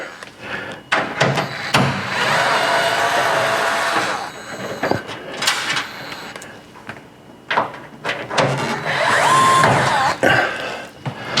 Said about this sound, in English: I'm going to take off these 3 screws right here